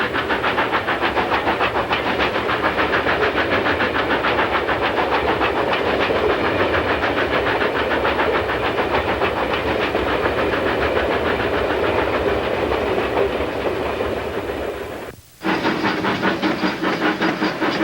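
Narrow-gauge steam locomotive hauling a long freight up a steep 4% grade on State Line Hill, a loud continuous roar of steam and labouring exhaust heard close from a riding car, broken by a brief dip near the end.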